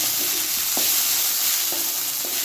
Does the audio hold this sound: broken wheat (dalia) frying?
yes